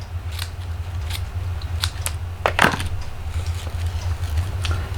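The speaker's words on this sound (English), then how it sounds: "So let's cut a piece of ribbon," Scissors snipping a piece of ribbon for a double loop bow while making cards from patterned paper: several brief, crisp snips spaced apart, close and fairly quiet over a steady low hum.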